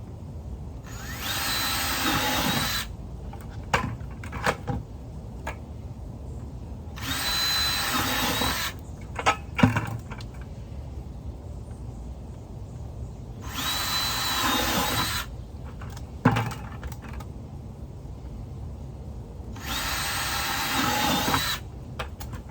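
A power drill bores holes into a plastic 5 gallon bucket in four separate loud bursts of high whine, each a few seconds long, with quiet handling clicks and knocks in between.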